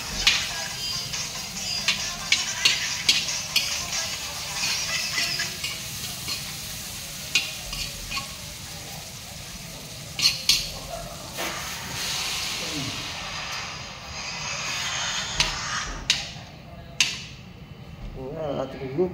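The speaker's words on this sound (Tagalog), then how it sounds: "Tayo po nagluluto ng ulam" Pacham sizzles and hisses steadily in a hot pan while a utensil scrapes and clacks against the metal in irregular stirring strokes, close and continuous throughout.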